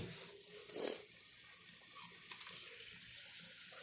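Tap water runs in a gentle, steady stream for watering flower plants, close and fairly quiet, with a brief louder splash near the start.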